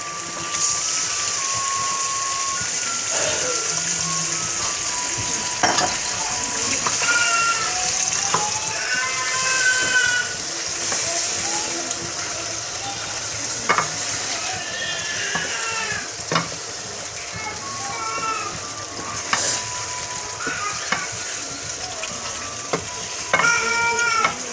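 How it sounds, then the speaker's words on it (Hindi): Chicken frying in a pan for gravy, with a steady close sizzle throughout and intermittent scraping stirs, plus occasional higher squeaky chirps over the crackle. "चिकन मेरी यहाँ पे भून रही है।"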